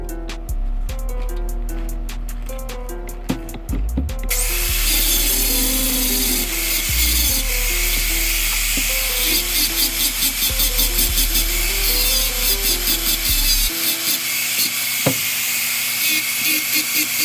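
Grinding on modded Mazda Miata steering knuckles, a steady abrasive rasp that runs nearly the whole time at close range, with a tonal whine shifting in pitch and brief pauses between passes.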